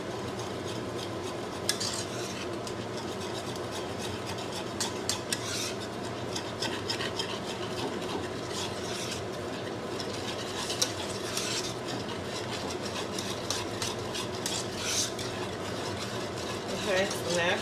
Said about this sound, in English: We're going to stir this.